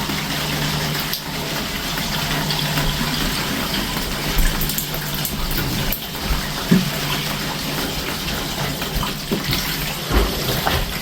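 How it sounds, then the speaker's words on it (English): Water flowing steadily down inside household pipes, a continuous broadband rushing hiss with a low hum underneath and a few faint knocks, no voices. "you can hear the water running down inside the pipes"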